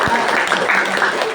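Audience in a teachers' peer-teaching session applauding a presenting teacher, a dense steady patter of clapping under a crowd's murmur, sustained and fairly loud throughout.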